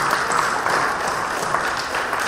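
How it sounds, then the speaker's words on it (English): A loud, sustained round of applause for participants at a school showcase, many hands clapping in a dense, even roar throughout. "Let's give them a loud round of applause"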